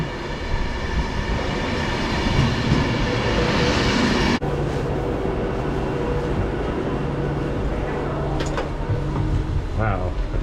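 Steady rumble of a moving train with rail noise throughout, a brief sharp click midway and faint high squeals near the end.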